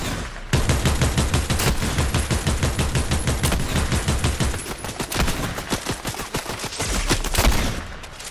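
Rapid bursts of automatic gunfire in the Fortnite video game, loud and close, with dense repeated shots continuing throughout and no talking.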